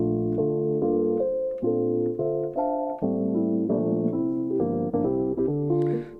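A soft synth melody loop from Output Arcade's Ingredients kit plays over sustained chords, mellow and steady, with a brief airy flourish at the end and no voices.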